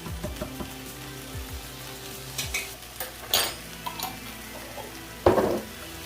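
Beef and broccoli stir-fry with black pepper sauce in a pan: steady sizzling under repeated scraping and tossing strokes, with metal utensil clinks and a louder clatter near the end, close and without talk.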